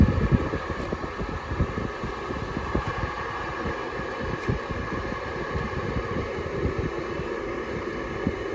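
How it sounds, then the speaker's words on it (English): The heater blower fan in an air-cooled Porsche 911 runs as a steady close whooshing whir with a low, fluttering rumble underneath, continuous throughout. "I'm getting fresh air out the centre with the blower."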